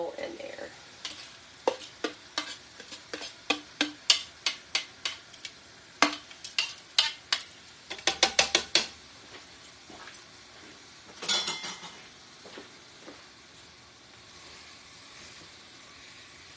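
Egyptian-style beef shawarma cooks with its marinade in a pan, a soft sizzle under frequent sharp clicks and scrapes as a utensil stirs the meat, with a busier flurry of stirring partway through.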